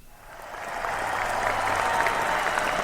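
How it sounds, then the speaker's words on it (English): Studio crowd applause swells in from quiet to a steady, dense wash of clapping that holds for a few seconds, fairly close and without talking. "An astounding round of applause for them"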